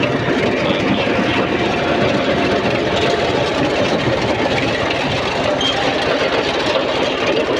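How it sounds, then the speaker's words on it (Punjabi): A tractor-drawn potato digger runs in a field, lifting potatoes from the soil: a loud, steady low engine drone with continuous mechanical rattle, close by and unbroken throughout. "ਇਹ ਮਸ਼ੀਨ ਹੈ ਆਲੂਆਂ ਵਾਲੀ ਜਿਹੜੇ ਕਿ ਜ਼ਮੀਨ ਦੇ ਵਿੱਚੋਂ ਆਲੂ ਅਲੱਗਾ ਕਰੀ ਜਾਂਦੀ"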